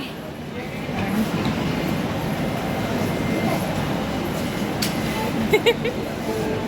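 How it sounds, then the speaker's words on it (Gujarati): A train arriving at a railway station rumbles steadily nearby with a broad, continuous roar, while people talk in the background. "ટ્રેન આવી ગઈ છે."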